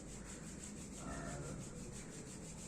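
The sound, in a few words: rubbing hands together to warm the palms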